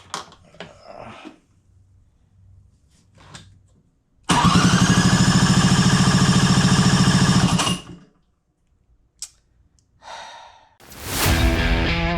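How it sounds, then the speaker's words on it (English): A PX150 scooter motor is cranked for a compression test: one loud, close burst of mechanical cranking lasting a few seconds, set between quiet stretches with small handling noises and a short rustle near the end. "I'm gonna go ahead and crank the motor and see what kind of compression we get."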